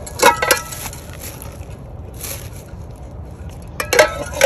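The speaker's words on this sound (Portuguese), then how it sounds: "Três panelas, ó." Used Teflon-coated cooking pans pulled from household trash and handled, giving a few short metallic clanks and scrapes in separate bursts near the start and end with quiet pauses between.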